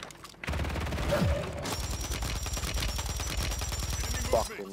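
Rapid automatic gunfire in the video game Call of Duty Warzone 3, shots coming through a wall in a long, loud, continuous rattling burst, with faint mechanical clicks at the start and end.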